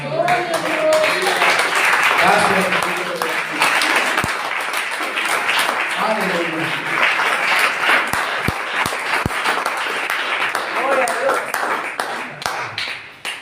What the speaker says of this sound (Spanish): ¿Quiere que le dé un aplauso al Señor?